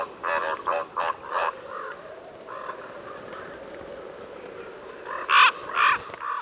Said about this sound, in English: The more you observe ravens, the more you see how well the world's biggest songbirds communicate